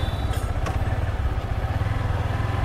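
Motorcycle engine running at idle just after starting, a loud steady pulsing putter close to the microphone with a faint mechanical clatter.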